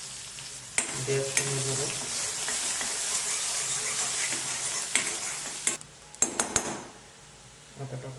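Chopped onion sizzles steadily in a hot pan while a utensil scrapes and stirs it, with occasional clinks against the pan, before a few more pieces land in the pan; someone talks briefly over the cooking.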